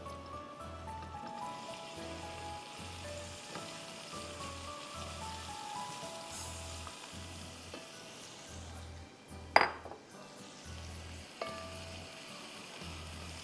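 Chopped onions fry quietly in a pan with a soft, steady sizzle under a low rhythmic electrical hum, broken by a brief clatter near the end.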